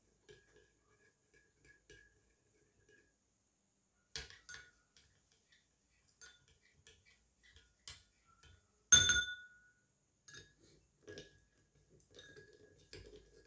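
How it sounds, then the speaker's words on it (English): Salt being stirred into water in a glass: a few sparse, faint clinks of a spoon against the glass, spaced irregularly, with one sharper ring near the middle, otherwise quiet. "This is salt. Here also we have to stir well."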